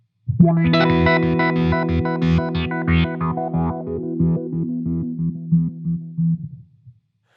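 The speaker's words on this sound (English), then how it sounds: "This one I have a modulation kind of filter sequence on the H9 with some of the envelope filter" Electric guitar pulses through a rhythmic modulation filter sequence from an Eventide H9 with envelope filter, booster and compressor, the chord chopped into quick sweeping stutters with a shifting tone, loud and alone, fading at the end.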